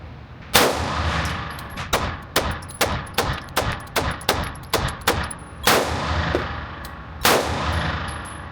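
A Springfield Prodigy pistol with a compensator fired at a target 15 yards out, a steady string of loud, sharp, close shots at a regular pace with ringing metallic echoes.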